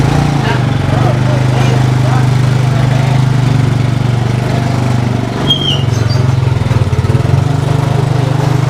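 A motorcycle engine drones steadily and loudly close by, a low rumble holding throughout with slight dips, while voices talk faintly underneath.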